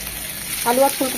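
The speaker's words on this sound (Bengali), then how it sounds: "মশলার সাথে খুব ভালোভাবে মিশিয়ে নেব" Fried cauliflower and potato being stirred into a spice masala in a pan, a short burst of sizzling with a couple of brief scraping stirs.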